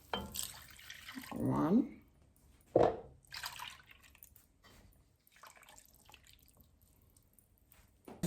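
Whole milk pours into a pot in a short gurgling stream, followed by a brief second splash, close and moderately loud, with a voice speaking quietly between.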